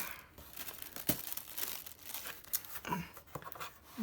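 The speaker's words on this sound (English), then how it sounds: "it's wrapped really nice with this red tissue paper" Red tissue paper crinkling and tearing as a prize package is unwrapped, a busy run of close rustles and small rips over about four seconds, with no voices.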